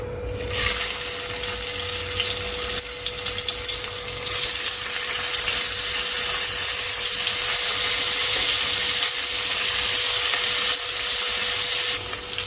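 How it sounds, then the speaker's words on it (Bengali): Pieces of katla fish fry in hot oil in a home kitchen, giving a steady, loud, continuous hiss that starts just after the opening moment and carries on without a break. "তেলটা গরম হয়ে গিয়েছে এবার আমি মাছগুলোকে দিয়ে দিচ্ছি"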